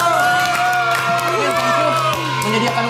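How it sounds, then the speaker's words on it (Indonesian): A live audience on an Indonesian talk show applauds and cheers, with scattered claps and whoops mixed into a busy crowd roar while a voice talks over it. "Kita kasih tepuk tangan sekali lagi buat Chandra Liao."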